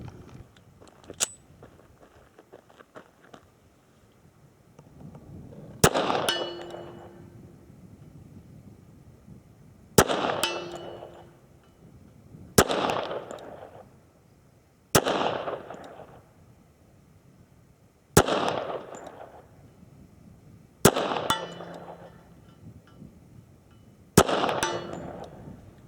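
Stainless Wilson Combat Classic .45 ACP 1911 pistol firing at a steel target, about eight sharp shots spaced a few seconds apart, each a loud crack followed by a ringing metallic clang, with no talking.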